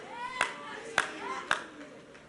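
Three separate hand claps ring out at even intervals, fairly close and crisp, while a person keeps talking in between.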